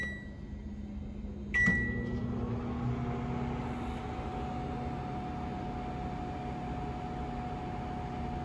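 A Samsung MW7593G microwave oven heating a cup of water starts with a single beep, then runs with a steady, even hum and whir that continues to the end.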